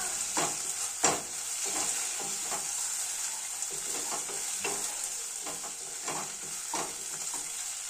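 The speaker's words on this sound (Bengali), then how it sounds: "খুব ভালোভাবে নাড়াচাড়া করতে থাকবো এবং সব কিছু খুব সুন্দরভাবে কষতে থাকবো।" Dried red chili paste being stirred and fried in a pan for a Bengali doi katla, a steady close sizzle broken by repeated scraping strokes of a spoon at an uneven rhythm.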